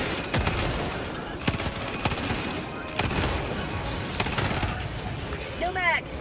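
Bursts of rapid gunfire and sharp single shots crack through a Helldivers 2 firefight, with voices chattering between the volleys.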